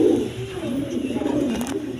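Pigeons coo in a loft of Raj Golla pigeons, low throaty cooing with repeated rolling notes close by, somewhat faint and continuous across the short stretch.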